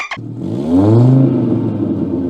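An Audi 100 C with a 2-litre engine revs up after a short click, the loud mid-range roar climbing to a peak then settling into a steady rumbling idle, close and alone without talk.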